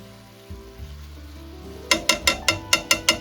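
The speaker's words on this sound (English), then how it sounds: "We mix the spinach carefully," Spinach for a Maltese pasta dish is stirred in a pan, ending in a quick, even run of about eight close scraping strokes over a gentle sizzle.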